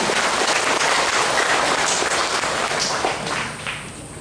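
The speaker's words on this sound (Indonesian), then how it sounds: "Mari kita berikan tepuk tangan." An audience at a meeting of village heads with the governor in Malaka regency gives sustained applause, dense and steady, then thinning and fading out near the end.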